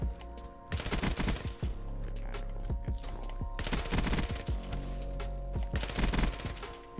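Bursts of rapid PPSH submachine gun fire in the shooter game Black Ops 3, three long sustained volleys separated by short pauses, loud and close.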